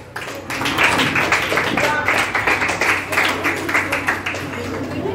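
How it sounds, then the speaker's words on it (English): A few people clapping at a Class X school farewell ceremony as the head boy is introduced, scattered uneven claps at moderate volume with a voice over the top. "Hearing only few claps,"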